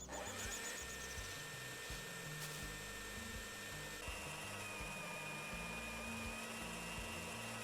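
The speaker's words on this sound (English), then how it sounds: "Let's get the chainsaw out." Chainsaw in the farming game Farmer's Dynasty 2, a steady buzzing engine drone running loud and continuous with shifting low rumble, no talking over it.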